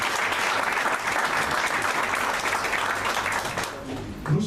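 Wedding guests applauding in a town hall civil ceremony, dense sustained clapping from a crowd that stays even and loud, then thins slightly near the end as a few voices surface underneath.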